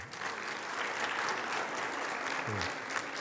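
A church congregation applauds together in steady, dense clapping that holds at an even level throughout, without a break.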